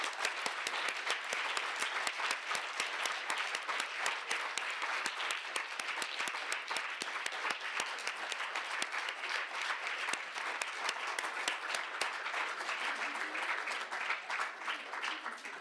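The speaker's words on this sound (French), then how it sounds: "l'intensité des applaudissements est même supérieure à celle qui était au début de ton propos introductif" A conference audience applauds steadily for a long stretch, dense sustained clapping at moderate distance without voices over it.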